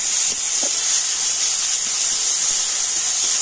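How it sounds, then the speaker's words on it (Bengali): Grated carrot fries lightly in hot oil, a steady, loud, close sizzling hiss that continues unbroken throughout. "তো এখন আমি এই গাজরটা তেলের উপর একটু হালকা করে ভেজে নেব।"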